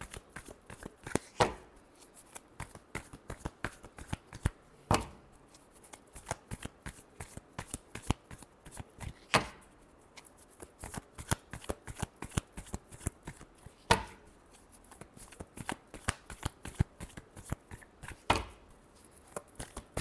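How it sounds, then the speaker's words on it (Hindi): A deck of tarot cards is shuffled by hand in rapid riffling bursts, close and crisp, with sharp taps as the deck is squared between rounds over about twenty seconds. "Last shuffle."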